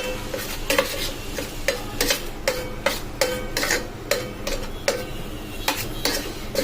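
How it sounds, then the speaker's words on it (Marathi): Tandoori paneer marinade being mixed with salt and garam masala, with quick repeated spoon-against-bowl scrapes and clinks in a steady rhythm, close and fairly loud, with no talking. "त्याच्यानंतर याला चांगलं मिक्स करायचंय."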